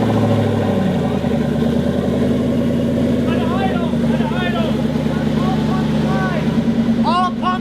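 A turbocharged car engine runs loud and steady throughout, with a deep continuous rumble and a faint whine, while a person talks over it nearby.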